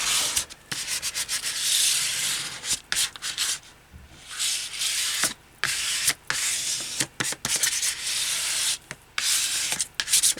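A paper cover for a handmade journal is burnished by hand, heard as close, dry rubbing strokes in quick uneven bursts with short pauses between them and no talking.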